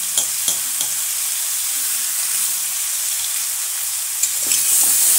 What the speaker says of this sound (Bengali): আমি সামান্য একটু আমটাকে নাড়াচাড়া করে ভেজে নেব